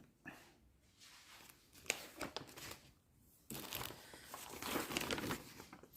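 A folding recto-verso cross-stitch paper pattern is unfolded and handled close by, giving crisp crinkling and rustling bursts that grow louder toward the end.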